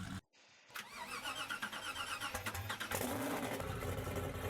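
A Hennessy Venom GT in the Driving Empire video game starts up: a brief starter whir, then the engine catches and settles into a throbbing idle that grows louder and rougher near the end.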